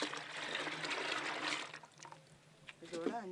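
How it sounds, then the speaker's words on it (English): Filtered leaf extract poured into Panchagavya liquid for homemade organic fertilizer: a steady close trickling pour for about two seconds, fading into faint dribbles, with a voice speaking near the end. "Add 1 liters of the filtered leaf extract to 5 liters of Panchagavya."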